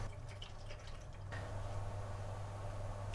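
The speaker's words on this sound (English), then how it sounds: "first we're going to test to see if this holds water" Water trickles and splashes faintly into a repaired container being checked for leaks, with a soft continuous pouring and dripping sound and no talking.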